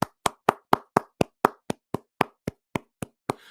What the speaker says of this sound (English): Let's give a hand clap to the Carolina Panthers.